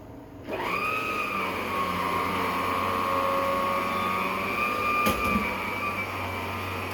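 An Aerus vacuum cleaner power head runs steadily after switching on, a loud continuous motor whine with a brief clack partway through, nearby and without talk.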